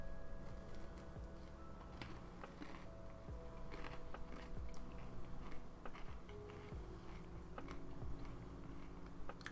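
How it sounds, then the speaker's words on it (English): Someone eating crunchy taquitos, with repeated quiet crisp bites and chewing crunches scattered unevenly over a faint background. "you guys get to see me snack on some taquitos."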